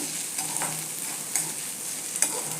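A spoon stirs okra frying with besan in a pan, soft scraping strokes over a steady close sizzle, with a few sharper clinks of the spoon against the metal.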